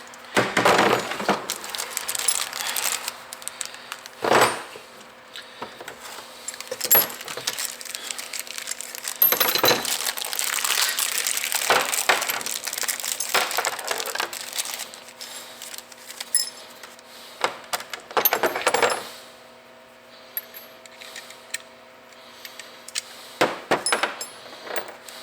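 Metal wrenches clink and jangle as they are rummaged through on a workbench during a Murray riding mower bagger installation, with bursts of clattering metal separated by short pauses, close and fairly loud.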